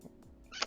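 A pet cat makes a short, faint meow-like call in the background, rising briefly near the end of a quiet moment with no talk.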